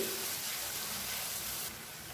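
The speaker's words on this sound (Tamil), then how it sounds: "இதை சேர்த்துக்கலாம் வெங்காயம் நல்லா சாஃப்டாக வதங்கணும் கண்ணாடி மாதிரி" Finely chopped large onion sautéing in a pan, a steady broadband sizzle with faint stirring, slightly quieter toward the end, no talking.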